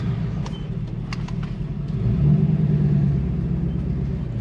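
A Ford Crown Victoria with a swapped 7.3L Godzilla V8 rumbles low and steady, then swells louder as the car pulls away, with a few faint clicks over the idle.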